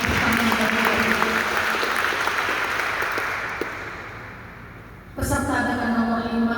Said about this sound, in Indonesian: Kita berikan tepuk tangan bagi Bapak.